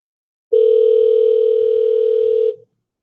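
A steady telephone dial tone sounds loud and close for about two seconds while a caller is being rung back on a talk show, then cuts off abruptly.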